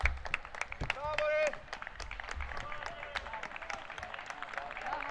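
Football crowd at a small ground applauding a substituted player late in a youth match, scattered claps heard faintly under close commentary speech and whistle-like tones.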